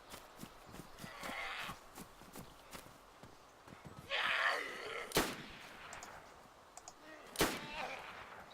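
Gunfire in the survival game DayZ, a few sharp isolated shots cracking out at intervals over quieter ambient noise and faint movement.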